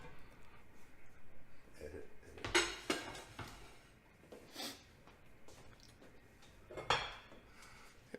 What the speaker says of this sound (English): We'll get our pan ready.